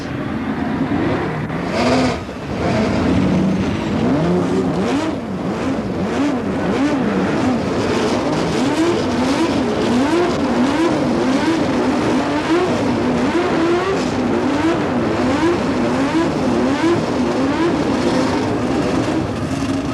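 Twenty-two CART Indy cars roar and rev together after starting on the grid at Atlanta International Speedway in 1983, a loud, dense engine chorus with rising and falling revving pitches throughout.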